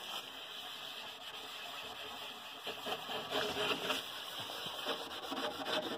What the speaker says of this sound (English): Put some on your Scotch-Brite wheel. And come around here. And you're going to go in a circular motion.